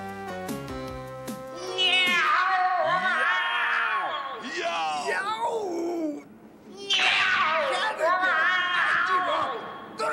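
A cartoon cat yowls and meows in long, sliding, wavering cries, loud and close, in two main bursts broken by a short pause, with musical tones at the opening.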